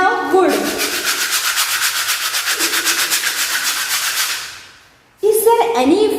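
A piece of wood is rubbed briskly back and forth for about four seconds in a loud, rhythmic scrubbing rasp close by, with a voice speaking just before and just after.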